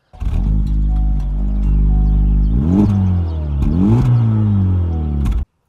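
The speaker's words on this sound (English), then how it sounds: "the triple exhaust, which looks really cool, sounds even better. Let's listen to the exhaust note." A Honda Civic Type R's triple exhaust idles with a deep rumble, then revs twice in sharp rising blasts before cutting off, loud and close.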